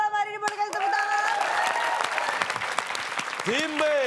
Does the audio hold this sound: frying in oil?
no